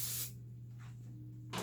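A short hiss of cooking oil spray coats a baking pan for banana bread, one brief close burst followed by quiet and the start of a second spray.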